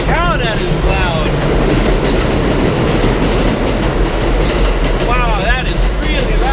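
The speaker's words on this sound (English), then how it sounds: "The subway's literally straight up there." A subway train passes directly overhead, a loud, continuous rumble and clatter with metallic wheel squeals near the start and end. It fills the whole stretch, with a voice faintly underneath.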